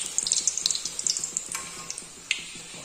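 Puri frying in hot oil, a steady crackling sizzle with dense bright spattering pops and a few sharper bursts, close and continuous with no voices.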